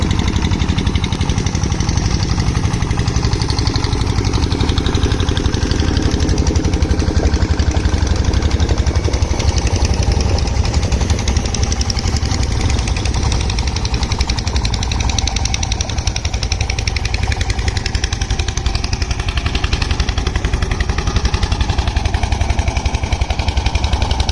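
Fishing boat engines on the Jamuna river drone steadily and loudly for the whole stretch, a rough, continuous motor rumble with a faint knocking texture and no talk over it.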